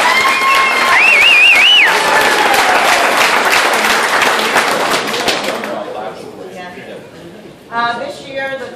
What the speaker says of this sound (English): a round of applause for Kelly.